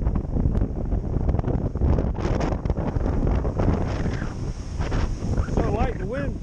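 Outdoor wind buffets the microphone in a steady broadband rush throughout, with people talking over it.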